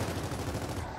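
A small gun fires in the video game Gears of War 4, a rapid, unbroken burst of close, loud shots lasting about a second.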